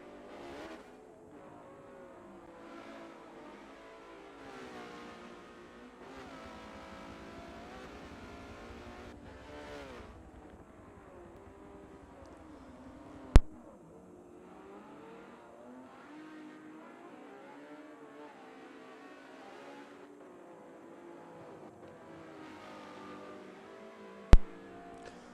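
A race car engine in Exotic GT racing on its final lap, revving and shifting steadily with rising and falling pitch, heard from a distance and fairly faint, with two sharp clicks.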